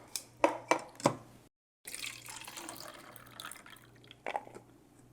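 Walnuts are rinsed under running tap water, with a few sharp knocks early on, a brief gap, then a steady splashing wash that continues to the end.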